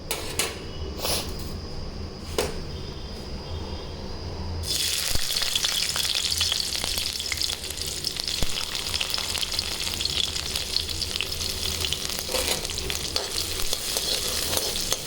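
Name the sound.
frying jute leaves in a wok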